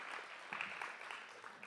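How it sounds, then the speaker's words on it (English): An audience at a Flagstaff animal-welfare thank-you event applauds, a brief faint wash of clapping heard from a distance, steady without a clear peak. "I want to give High Country Humane applause."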